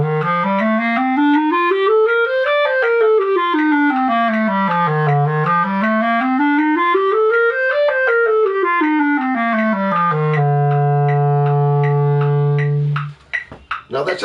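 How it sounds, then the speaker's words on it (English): A two-octave A natural minor scale played up and down on a sustained melodic instrument, each note clear and even in a steady stepwise rhythm, climbing and descending twice before settling on a long held low note, with no one talking. "I'm going to go 2 octaves up and down in A natural minor"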